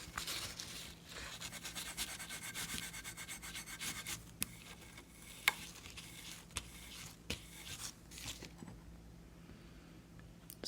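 Sandpaper rubs back and forth over a plaster block that has not fully set, a soft, quiet, steady scratching with a few sharper taps, alone without talk.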